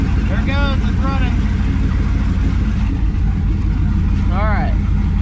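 A car engine keeps running and idling with a steady low rumble throughout, while people talk over it in short bursts.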